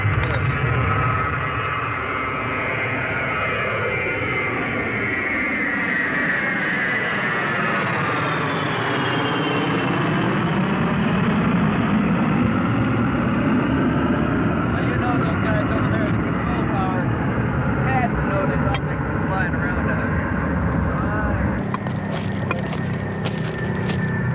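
A fixed-wing airplane in its landing pattern passes low overhead, a loud continuous engine drone whose pitch sweeps down and back up across the pass, with faint talk underneath.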